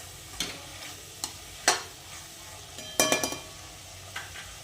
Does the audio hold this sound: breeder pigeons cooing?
no